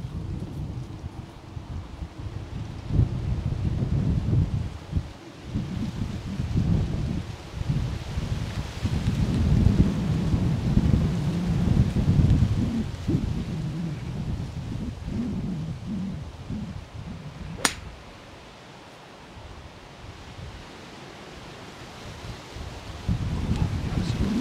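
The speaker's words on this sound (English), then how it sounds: "it's quite strong that wind." Strong wind buffets a microphone on a golf course, producing heavy rumbling gusts that rise and fall over about twenty seconds before easing, then picking up again.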